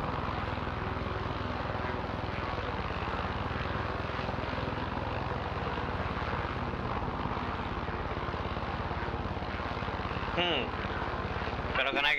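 A helicopter drones steadily overhead, a dense continuous rotor and engine roar filling the scene throughout, with a brief voice near the end.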